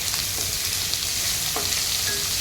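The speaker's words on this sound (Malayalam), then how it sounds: "ഇത് രണ്ട് ഫുള്ള് സവാള അരിഞ്ഞു വെച്ചതാണ് ഇത് നമുക്ക് നല്ലതുപോലെ ഇളക്കി കൊടുക്കാം" Two chopped onions frying in a hot pan while being stirred, with a steady close sizzle throughout and a few scraping clicks from the stirring.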